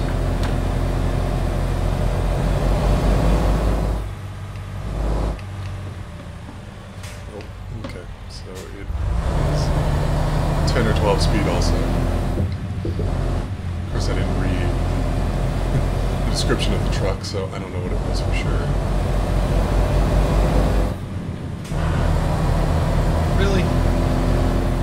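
A loud large truck engine in American Truck Simulator drones steadily throughout while hauling a very large trailer, with a person talking over it and brief dips in the engine noise.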